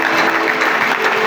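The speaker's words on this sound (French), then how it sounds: "Je pensais que tu allais fortement acclamer." A worship congregation applauds and cheers together, a dense, loud, sustained wash of clapping filling the room without a break.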